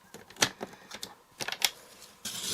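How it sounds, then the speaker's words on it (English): A paper trimmer slicing through cardstock one sheet at a time, with a quick run of close, crisp clicks and scrapes from the blade carriage ending in a brief hissing rasp, with no talking. "So you can cut one piece of cardstock at a time."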